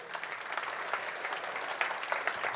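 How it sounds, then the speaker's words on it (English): Dense, steady audience applause at a 2020 State of the City event in El Segundo, with many hands clapping evenly and continuously at moderate volume and no voices over it. "I think that deserves an applause as well."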